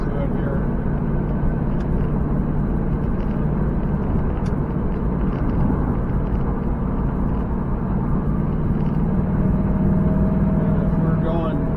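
A car cruises steadily in fifth gear with a low, constant engine and road drone from inside the cabin, and someone talks over it.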